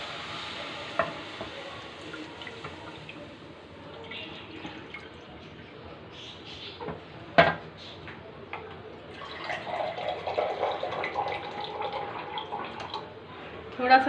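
Water is poured into a cooking pan holding milk while making gulab jamun. Soft splashing and trickling sit under a quiet kitchen backdrop with a few small clinks and a sharp clatter midway.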